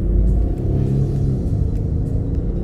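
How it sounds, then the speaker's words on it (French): A Range Rover Sport diesel engine at low revs, a steady deep rumble with a slight rise, loud and close, with no voices. "un moteur diesel n'est pas vraiment fait pour monter haut en régime"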